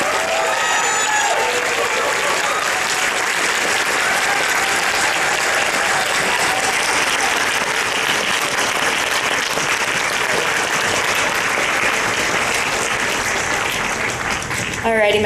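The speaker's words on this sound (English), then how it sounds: "One more round of applause for Thornwing, everybody." A large convention crowd gives a long, loud, continuous round of applause at a closing ceremony, dense clapping with some cheering and voices mixed in throughout.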